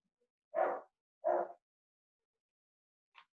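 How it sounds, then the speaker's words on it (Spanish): Two loud, close barks from a pet dog, evenly spaced about half a second apart, followed by a faint short yip, in an otherwise quiet room. "Y pues bueno, escuchas a mi perro."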